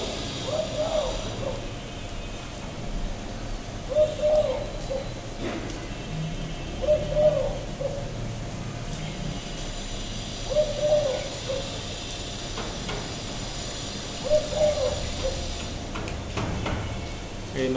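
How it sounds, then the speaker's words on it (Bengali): A red turtle dove with its chick coos softly in a short phrase, repeated about five times at even intervals of a few seconds over a faint, steady background hiss. "আর এই যে লাল ঘুঘু বাচ্চা নিয়ে আছে আপনার।"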